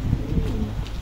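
An Opaline pigeon coos close by, giving two soft low throaty pulses followed by a drawn-out, gently wavering coo that fills the short moment.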